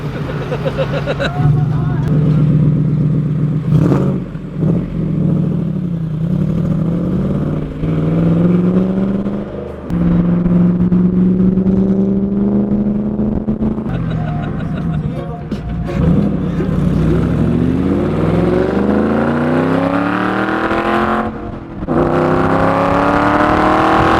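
An AC Cobra sports car driven at night on a road trip, its engine loud and close, revving up and down through repeated gear changes with brief drops between pulls. A voice speaks briefly over the engine.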